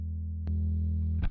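A bass guitar runs through a Darkglass Adam distortion effect, sustaining a thick, buzzy low note with two sharp plucked attacks, clear and close with no other sound.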